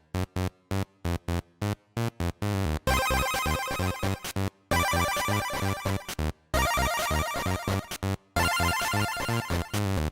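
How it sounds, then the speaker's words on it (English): Winter-level chiptune music from the Game Boy Color game Croc plays alone: bright, beeping square-wave melodies in choppy bursts separated by short silences. "I just do not like this song"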